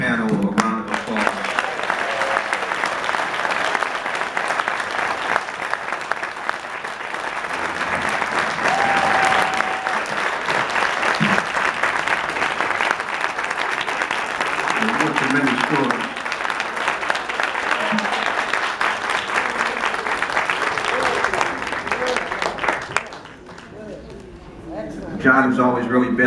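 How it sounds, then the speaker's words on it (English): A tribute-event audience gives a long round of applause for a panel, with dense clapping running for over twenty seconds and voices speaking near the end. "Can we give this entire panel a round of applause?"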